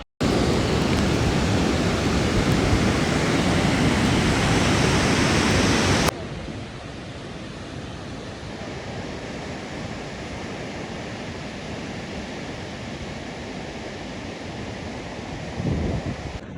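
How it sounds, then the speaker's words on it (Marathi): Rough sea waves roar at a beach, a loud continuous surf wash with heavy wind buffeting that drops abruptly to a softer, steadier rush partway through. "आप देख सकते हो अभी समुद्र बहुत खवललेला है"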